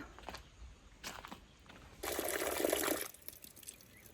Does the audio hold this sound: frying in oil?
no